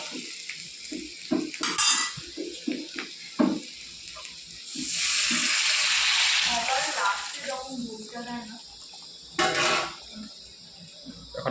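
Chicken fries in a pan amid metal utensil clinks and scraping, with a louder sizzling surge in the middle and another brief burst later, while a person talks intermittently.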